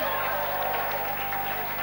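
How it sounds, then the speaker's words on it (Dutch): A live audience at a music show in the Netherlands applauds steadily, a dense, even wash of clapping heard from a distance while a voice carries over it. "Een applaus graag, dames en heren."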